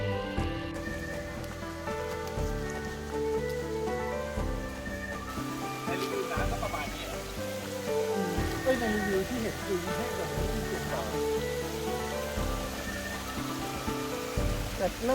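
Heavy rain in Phu Toei National Park in Thailand, a dense constant patter close by, with people talking and musical tones layered over it.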